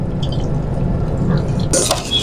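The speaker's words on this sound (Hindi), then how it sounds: "अब इसको साथ ही मैं ठंडा पानी मारूंगा।" Cold water is poured over cooked vegetables in a kitchen, a steady splashing rush that carries on loudly throughout.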